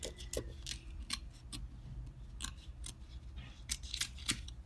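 Scissors trimming a vinyl cutting mat carrier, a run of crisp snips and clicks spaced irregularly over a low background hum, close and fairly quiet.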